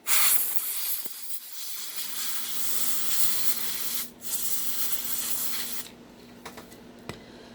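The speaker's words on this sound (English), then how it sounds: "you could either use the compressed air can, like I just did" A compressed air can blasts in loud hissing spurts to blow excess out of a slot car model, a long spray then shorter bursts with pauses.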